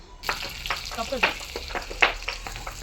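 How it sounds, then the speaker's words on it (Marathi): Onion fries in oil over a wood-fired village stove, crackling and sizzling steadily with repeated stirring scrapes close by. "आता तेलामध्ये कांदा परतण्यासाठी टाकून घेतलेला आहे"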